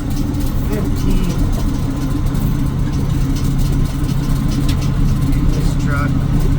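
A Cummins ISX15 diesel in a water hauling truck rumbles steadily at low speed on a rough road, a continuous heavy drone beneath someone talking.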